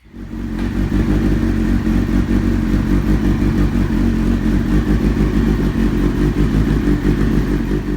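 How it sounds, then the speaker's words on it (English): Kawasaki ZZR motorcycle with a stock exhaust idling and running steadily, a loud, continuous low engine rumble with mechanical clatter, close by and alone after a brief start. "I'm willing to bet that all you're going to hear is the ZZR"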